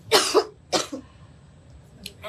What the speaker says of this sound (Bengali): এত কাশি পাচ্ছে